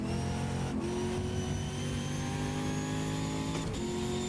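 A race car engine in the GTR 2 racing game, on a 2003 FIA GT car at Barcelona, drones steadily and loudly after a downshift, with a sustained high-revving tone and two brief shifts in pitch.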